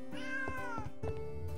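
Cat meowing in the Travellers Rest video game, a single clear, fairly close meow followed by a few short soft sounds, with no talking.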